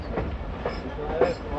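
Pakistan Express 46 Down passenger train running near Chakrala, giving a brief, steady rolling rumble with faint rail clatter and no clear voices.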